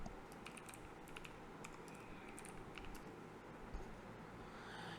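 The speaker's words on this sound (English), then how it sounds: "Then type in your password." Rapid keystrokes on a computer keyboard while entering a password, an irregular run of light, close clicks and taps over a faint steady background hum.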